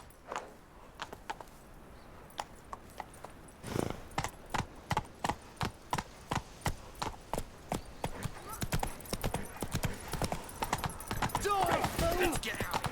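Roach, a horse in The Witcher 3: Wild Hunt, gallops with a steady clip-clop of hooves that grows louder and quicker, each beat sharp and close, with game ambience and a brief voice in the background.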